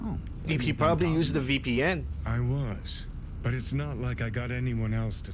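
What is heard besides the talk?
No distinct noise like a dog, phone or traffic.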